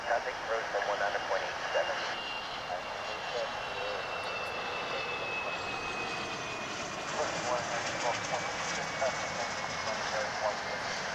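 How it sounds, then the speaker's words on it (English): An Embraer 145 regional jet arriving at DFW International Airport, its engine a steady, fairly faint whine and roar that holds throughout, heard from outdoors at some distance. "What we're going to be looking at here is American Eagle Flight 3512 in Embraer 145 coming in from Waco"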